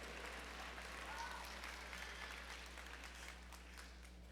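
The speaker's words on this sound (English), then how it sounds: "Okay, you can clap for that." An audience at a technical college graduation ceremony gives faint, distant-sounding applause that holds steadily and then thins, over a constant low electrical hum.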